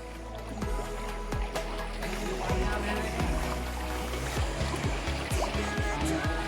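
River water rushes through a canyon in North Bengal, a steady close-up flow with splashes and knocks throughout, and a faint voice occasionally beneath it.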